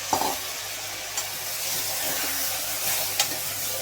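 Mutton pieces with onions, turmeric and salt sizzling on high heat in a pan, a steady frying hiss with a few scraping stirs, fairly close and without talk.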